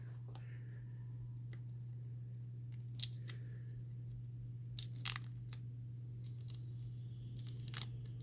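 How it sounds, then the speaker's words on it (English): Protective packaging tape is peeled off a Canon printer ink cartridge in a few faint, brief crackling tears and crinkles over a low steady hum, with no one talking. "we're going to remove the tape. It's just protective packaging tape that was on there."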